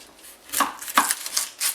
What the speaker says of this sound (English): you want to cut this end of the onion, not this end of the onion